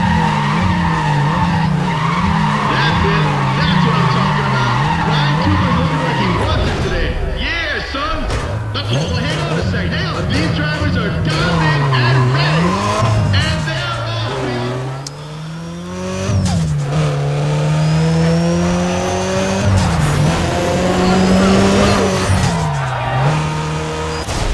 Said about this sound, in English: I could use with a better launch, though. I mean, friggin' just spun the crap out of it.